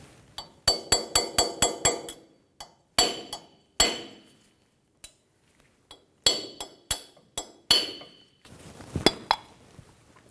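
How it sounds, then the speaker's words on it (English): Sharp metallic hammer-and-punch strikes knocking off a wheel dust cap on a Toyota Tacoma ring out in quick bursts, some rapid series and some single blows, each leaving a short ringing decay. "Using a hammer and a punch, we're going to remove the dust cap."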